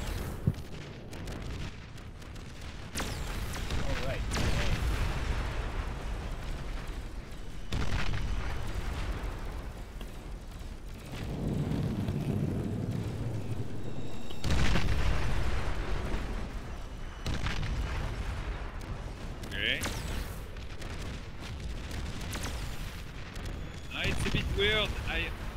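Repeated bombing explosions from the strategy game Beyond All Reason, booming and rumbling in dense bursts throughout, with a voice talking over them at times.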